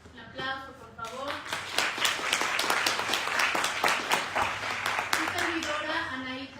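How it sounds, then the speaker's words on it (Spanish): An audience at a UNAM book presentation breaks into brisk clapping after a short spoken introduction. The applause runs for several seconds, then fades as a voice resumes. "Un aplauso, por favor."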